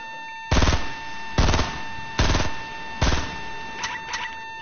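Four evenly spaced, loud gunshots from a video game firearm ring out one after another, followed by two fainter, quicker shots at the end, with no talking.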